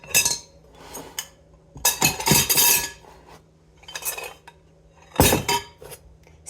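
Cookie ingredients go into a mixing bowl, with repeated clinks, clatters and scraping of utensils against the bowl in several loud close bursts separated by quieter pauses.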